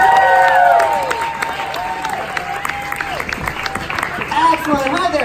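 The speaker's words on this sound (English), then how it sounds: "Come on up here. Give them a big round of applause." Audience applause with some cheering at a magic burlesque show, dense steady clapping across the room while excited voices and whoops rise over it, loud throughout.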